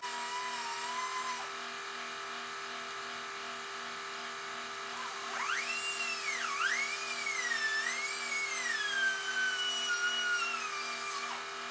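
A rotary cutting tool works through a plastic C5 Corvette front bumper, giving a thin, steady whine whose pitch rises and falls as the cut progresses, near and alone.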